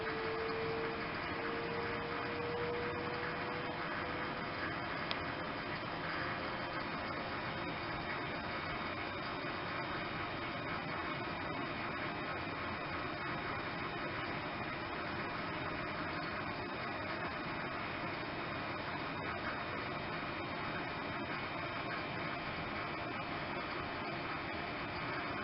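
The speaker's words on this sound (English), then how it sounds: "We will observe here how fast the turbo pumps drive the system in" The turbo pumps of a Teccum vacuum thermal evaporator run with a faint, steady mechanical whir and hum, continuous and unchanging, with a slight pitch rise at the start.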